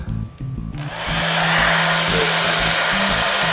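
A hot air tool on a low setting warms the double-sided tape adhesive on a Buffalo MiniStation Thunderbolt drive enclosure, blowing as a loud, steady whoosh after a brief start-up.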